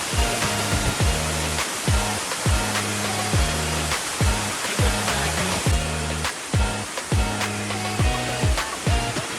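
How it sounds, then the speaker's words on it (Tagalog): A small waterfall on Mt. Parawagan in Montalban gives a steady, dense rush of falling water, close and loud and heard alone, with irregular rhythmic tones layered over it. "meron pa ritong maliit na falls bukod doon sa malaking falls doon sa taas"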